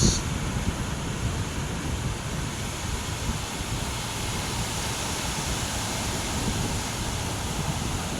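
Steady broadband roar of surf washing in continuously at low tide at night on Bagasbas Beach, with wind noise over the microphone and no distinct breaks.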